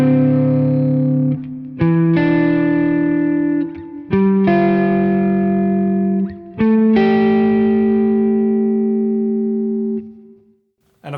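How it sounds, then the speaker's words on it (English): Minor seventh chords in 22-EDO microtonal tuning ring out one after another, four sustained, slightly distorted chords with a chorus-like shimmer, each held a couple of seconds, the last decaying away. "So the minor 7ths sound like this."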